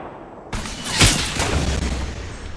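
A single loud close gunshot boom in Fortnite squads play, with a sharp crack followed by a rumbling tail and noisy game sound around it.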